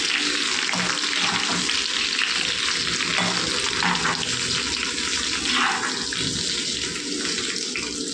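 Onions sizzle in hot oil for chilli prawns, a dense, steady frying hiss that stays loud and close throughout with no one speaking.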